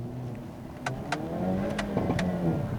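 A Hyundai Kona N SUV engine hums and rises in pitch as it revs, with several sharp clicks from paddle shifts cutting through the drone.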